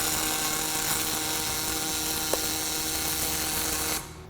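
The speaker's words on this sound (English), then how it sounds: "That is, without exaggeration, the best aluminum MIG welding experience I've ever had or seen." A Fortis 270 MIG welder runs on aluminum without a spool gun, giving a steady, even buzzing hiss that holds for about four seconds before the arc cuts off and leaves a low hum.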